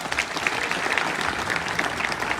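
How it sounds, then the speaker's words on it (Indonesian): An audience at a Christmas gathering of the Efarina foundation gives steady, dense applause. It is continuous and even throughout, with the crowd's clapping close and full and no break. "Tepuk tangan untuk kita semuanya."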